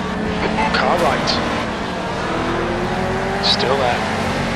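Historic touring race cars in the Project Cars racing game, in a GTC-TC Euro Classic Cup round, drone with engine noise as rival cars sweep past alongside in two brief rising-falling passes, while a spotter's voice speaks over the mix.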